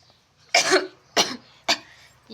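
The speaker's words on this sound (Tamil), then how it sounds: "எனக்கே இருமல் தான்" Three separate coughs, close and fairly loud, spaced about half a second apart in an otherwise quiet room.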